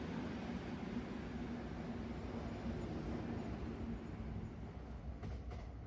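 Rumbling steady noise inside a train traveling to Łódź, a continuous low roar of the carriage on the rails with a few faint clicks near the end and no talking.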